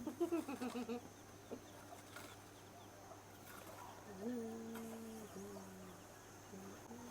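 A hen clucks in a rapid burst at the start, followed by quieter clucks and cooing calls from hens and small chicks close by over a faint background hum.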